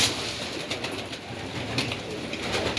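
Pigeons in a dovecote, a mixed flock of various colours, giving soft low cooing amid a busy rustle of wings and movement, steady and moderately close throughout.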